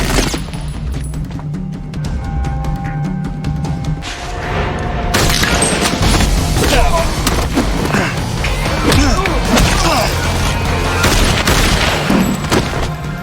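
Gunfire erupts as hitmen ambush a man stopped at roadside construction in an action film, with dense bursts of shots and thuds building into a loud, continuous barrage mixed with film score and effects.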